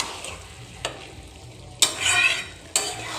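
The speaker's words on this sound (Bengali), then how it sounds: "শুধু মশলা দিয়ে এইভাবেই কষাবো, জল দেব না।" Cooked ingredients stirred and sautéed with spices in a pan without water, a steady sizzle broken by a few sharp scrapes of the spoon against the pan.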